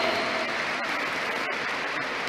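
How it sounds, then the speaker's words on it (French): A large crowd applauds steadily at a university graduation ceremony in Senegal, dense and fairly loud clapping that carries on without pause. "Des applaudissements très très forts,"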